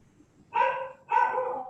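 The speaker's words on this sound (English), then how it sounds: "There's a dog barking somewhere" Dog barking in the background of a Zoom meeting: two harsh, drawn-out barks about half a second apart, fairly close and clear against a quiet room.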